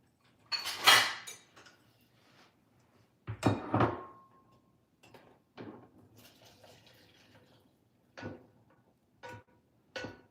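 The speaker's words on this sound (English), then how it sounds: "As I drain the fat from this." Cooked Italian sausage in a pan has its fat drained off, with several clanks and scrapes of the pan between brief liquid pouring sounds, close and intermittent.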